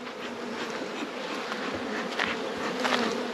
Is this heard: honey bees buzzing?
yes